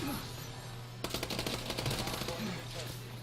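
Rapid gunfire in a Call of Duty: Advanced Warfare gunfight, bursts of automatic shots over a steady game hum, starting about a third of the way in and continuing to the end.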